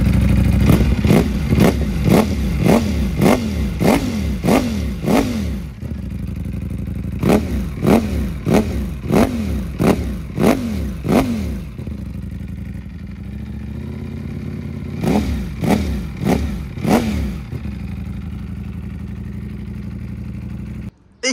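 A 2020 Ducati Panigale V4 S fitted with an Akrapovic exhaust revs repeatedly close by, with loud rhythmic bursts of throttle blips separated by idling lulls.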